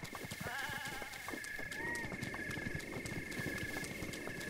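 A horse gallops in Zelda: Breath of the Wild, steady rhythmic hoofbeats with a brief whinny over a constant high-pitched ambient tone.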